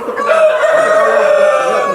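A tiger chicken rooster on a farm crows once, loud and close. The crow is a sustained, strained call held for about two seconds with no talking.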